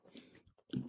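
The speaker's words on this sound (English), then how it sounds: "Nothing like chewing on the radio." Close, quiet chewing and crunching of a Samoa Girl Scout cookie, a few short bites and mouth sounds in quick succession.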